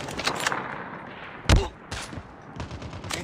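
Gunfire from a Call of Duty Mobile match, with a sharp close shot standing out and a few scattered, fainter shots around it against a busy game background.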